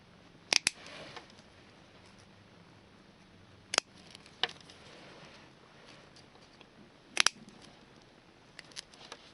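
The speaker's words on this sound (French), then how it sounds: "Vous coupez les 4 cordes." Scissors or cutting pliers snip through the four cords of a woven plastic-cord keychain, giving four sharp, close, quiet clicks spread across a near-silent background.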